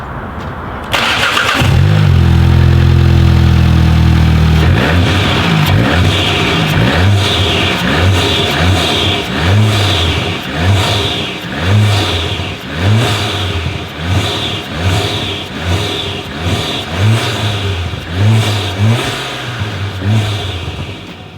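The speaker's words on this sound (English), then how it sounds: "I will give you a couple of revs" A Volkswagen Mk7 GTI with an MST Performance closed-box intake fires up loudly, then its engine is blipped through a series of repeated short revs, each rising and falling in a regular rhythm, close and clear.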